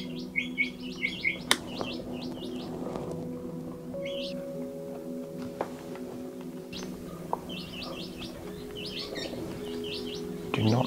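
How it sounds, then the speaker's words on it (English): Many birds chirp in the Australian outback, with clusters of quick, high tweets coming and going over a steady low background hum, fairly faint and at a distance, without anyone speaking. "So many birds."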